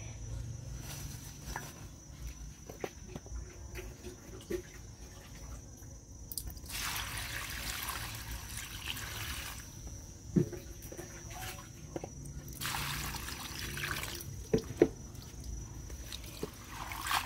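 Young sweet potato leaves are washed gently by hand in water, giving soft dripping and squishing splashes with a few brief louder sloshes over a steady quiet background.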